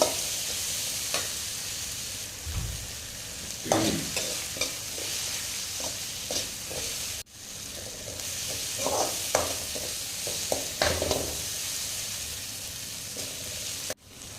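Utensil scraping and stirring through ginger-garlic paste in a hot pan, with a steady sizzle of frying underneath and irregular clinks and scrapes throughout.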